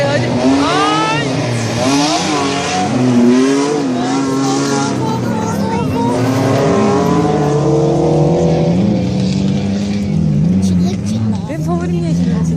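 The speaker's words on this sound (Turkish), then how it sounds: "Şu araba çok güzel dönecek, çok hızlı geliyor çünkü." Off-road race cars run fast on a challenge course, their engines revving and whining under loud, excited talk from nearby spectators throughout.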